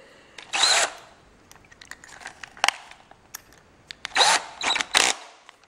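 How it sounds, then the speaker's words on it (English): Short bursts of a power drill whining up and stopping, several times in a row, drilling a hole for threads in a homemade tank track guide tooth, close, with clicks and handling noises between bursts. "And I'll drill this out at the size of the threads."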